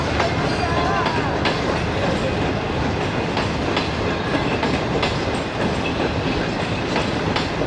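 A Green Line train passing at Raiwind Junction in Pakistan, loud and close, with dense steady rumble and rhythmic clickety-clack of wheels over rail joints throughout.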